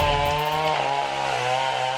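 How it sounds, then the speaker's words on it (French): A chainsaw cuts into a tree, its engine droning steadily and loudly at high revs, pitch dipping slightly as it bites, close and alone without talk. "Le loup sort une tronçonneuse de son sac et commence à couper l'arbre"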